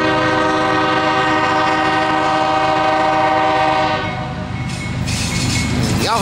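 CSX freight train led by ES44 locomotives rolls south on jointed rail near Greenville, a loud steady roar of engines with horn-like tonal harmonics, then a brighter rattling burst of wheels near the end.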